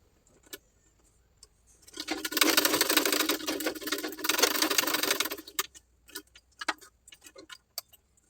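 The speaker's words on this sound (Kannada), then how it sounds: "ಈ ರೀತಿ ಇದನ್ನು ಕರೆಕ್ಟಾಗಿ ಸ್ಟಿಚ್ ಮಾಡ್ಕೊಳ್ಬೇಕು" An electric sewing machine stitches blouse sleeves in one steady, fast run of about three seconds at moderate loudness. Scattered ticks and clicks of fabric handling come before and after the run.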